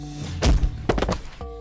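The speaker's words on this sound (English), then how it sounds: "Then a soft thud as Walter's lifeless body hits the ground." A couple of dull thuds of a body hitting the ground land in close succession, soft and heavy, with a faint rustle after them and no voices.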